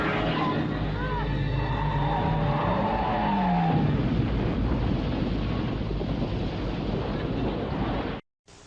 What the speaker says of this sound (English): Chuck Norris gets behind the wheel of his big pickup truck and goes out to fight Invasion USA